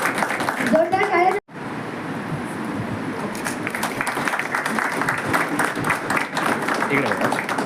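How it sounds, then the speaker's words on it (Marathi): Loud, sustained applause from a crowd at a land records office celebration of Dr. Babasaheb Ambedkar's 135th birth anniversary, starting abruptly after someone speaks and continuing as a dense wash of clapping. "जोरदार टाळ्या"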